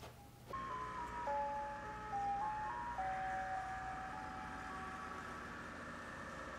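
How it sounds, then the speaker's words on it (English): Ice cream truck music plays outside during a paranormal investigation, a steady tinkling melody of stepped tones over a low engine hum, continuous and moderately loud from about half a second on. "it sounds like an ice cream truck."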